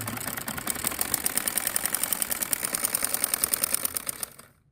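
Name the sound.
sewing machine stitching a kameez lining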